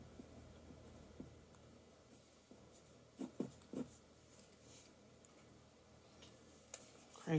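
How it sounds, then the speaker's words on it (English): A pencil scratches softly across paper while a tie is drawn on a suit fashion sketch, with faint, close strokes and a few light taps, quiet and without any talking. "now what I'm doing is drawing my tie"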